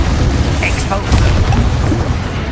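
A booming blast from the Expulso spell in Hogwarts Legacy, a short, heavy eruption that rumbles on through the whole moment.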